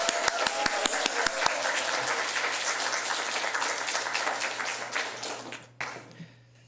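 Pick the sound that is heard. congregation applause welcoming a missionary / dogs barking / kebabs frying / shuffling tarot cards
congregation applause welcoming a missionary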